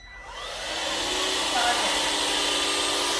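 An Airbot iClean PRO wet dry vacuum cleaner with a faulty water feed runs steadily and close, a broad whirring motor roar that swells over the first second and then holds at an even level.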